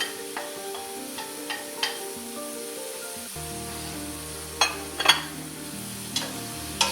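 Chopped yellow onion and carrot sizzle and fry in a pan for a soup, with a steady hiss and a few clicks of stirring, close and alone.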